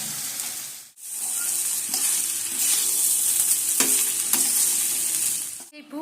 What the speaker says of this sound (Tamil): அந்த நேரத்தில் நம்ம அந்த பாஸ்மதி ரைஸை போட்டு நல்லா கலந்துக்கலாம்.